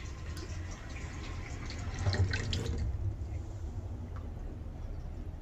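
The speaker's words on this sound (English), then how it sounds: "he said he could hear more water flowing" Water flows steadily nearby, likely from a sink tap, a continuous faint rushing with a brief louder swell midway.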